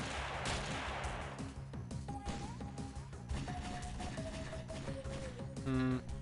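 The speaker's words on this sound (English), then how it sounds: "Yeah, there's the minigun." Sustained minigun fire in the turn-based strategy game X-piratez, a dense rapid stream of loud shots and impacts running throughout, with tonal game effects near the end and no talking.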